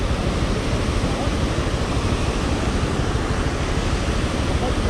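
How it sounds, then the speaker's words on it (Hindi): A powerful river near Ghandruk village in Nepal rushes in a dense, steady roar, loud and unbroken throughout, with no pauses or distinct events. "क्या पावरफुल है भाई नदी"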